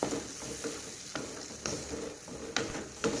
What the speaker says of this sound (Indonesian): Nah ini kita aduk-aduk.